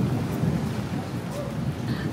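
Steady rain during the Tanabata street festival in Japan, a dense low hiss of falling water heard close and continuously, with faint crowd sounds underneath.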